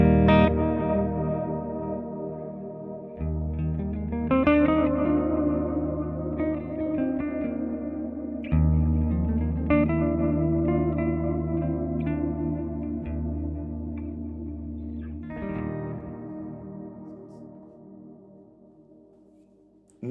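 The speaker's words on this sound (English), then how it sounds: "Two delays that run, I guess, parallel, running into another delay." Electric guitar run through a Soundtoys Effect Rack chain of three delays, two in parallel feeding a third, ringing out sustained chords with thick repeating echoes and wash that swell and slowly fade, no voices.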